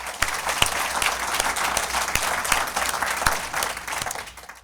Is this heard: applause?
yes